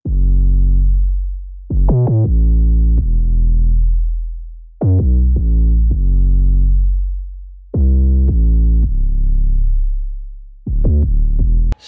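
Deep sub bass channel from an electronic track, loud low sustained notes with quick rhythmic retriggers, playing alone in repeating phrases with decaying tails.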